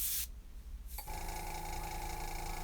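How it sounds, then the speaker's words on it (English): Airbrush spraying thinned paint on a wooden eagle walking staff, a short hissing burst at the start, then quiet, then a steady close hiss with a faint mechanical hum. "So I'm just gonna spray some in there, and it reduces it."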